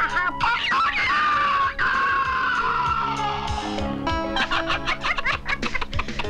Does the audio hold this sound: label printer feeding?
no